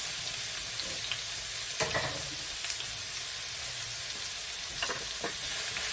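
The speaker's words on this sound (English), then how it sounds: "the half of the onion. And I'm going to saute this for a little bit, not that long." Half an onion sautés in a pan alongside garlic while making chilaquiles rojos, a steady close hissing sizzle with a few scraping stirs, no voices.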